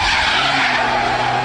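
A front-wheel-drive car drifts through a 90-degree turn, its tires skidding and squealing in one loud, unbroken screech over the engine, heard up close with no voices.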